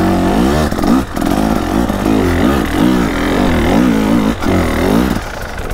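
A KTM 300 two-stroke dirt bike engine revs close and loud in repeated throttle blips, its pitch rising and falling in a crisp, buzzing rhythm.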